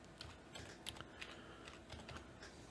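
Quiet, rapid tapping of keys as a password is typed on a computer keyboard, a close run of irregular clicks with no voices.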